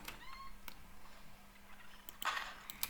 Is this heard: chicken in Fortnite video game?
yes